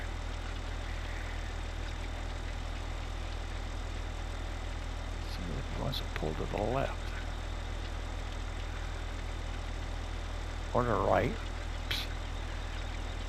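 In Farming Simulator 15, a game tractor's engine idles as a steady low drone, even and constant throughout, while someone talks briefly over it twice.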